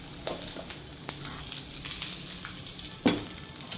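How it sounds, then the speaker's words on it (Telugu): Spices sizzle and crackle in hot oil, a steady frying hiss with scattered small pops, close and fairly quiet. "పోపు వేగిందండి, ఇప్పుడు దీన్ని పక్కన పెట్టుకుందాం"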